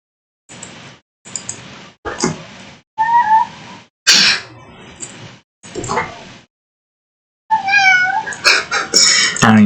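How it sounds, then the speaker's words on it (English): A pet cat meows repeatedly and loudly at close range, in a string of short separate calls with brief silences between them, ending in a denser burst of higher, wavering cries. "Don't meow at me"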